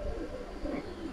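A pair of Kaldom pigeons gives a low, soft cooing murmur, steady and close, over faint background noise, with no talking.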